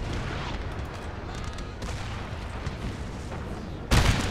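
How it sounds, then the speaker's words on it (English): Cannon and musket fire on a Napoleon: Total War battlefield: a dense, continuous crackle of distant volleys under a low rumble, ending in a sudden loud close blast. "Our cannons are causing them some significant losses there in the center."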